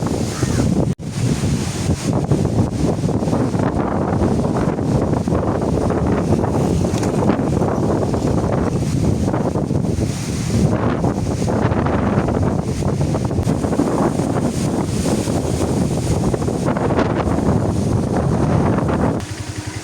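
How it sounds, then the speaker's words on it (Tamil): Strong stormy wind at the seashore in Mathagal roars and buffets the microphone continuously, a loud steady rush with gusting swells and no pauses. "அப்படி கடும் காற்று வீசி கொண்டிருக்கிறது"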